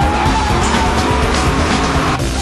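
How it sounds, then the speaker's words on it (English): Drift cars skidding at a Drift Australia event at Wakefield in 2005, with loud continuous tire squeal and roaring engines close by, sustained throughout. "they've got to be drifting and they're trying to get up close as possible to each other"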